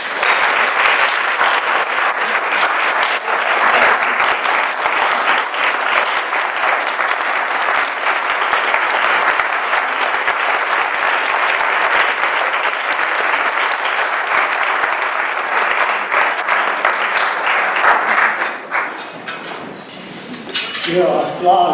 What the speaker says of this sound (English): Your applause and recognition might be a little premature.